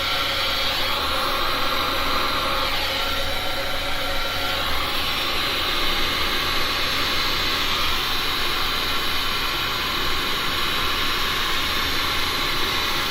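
Steady, loud rush of air blown across fresh resin coasters to open up cells, a continuous hiss-like roar with no pauses and no talking.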